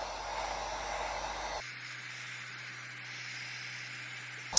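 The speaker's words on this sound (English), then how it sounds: "Get your heat gun and do an even coat all the way around." A heat gun blows hot air around a plastic BMX peg held in needle-nose pliers, a steady close airy hiss that drops to a quieter, thinner rush partway through, with a brief click near the end.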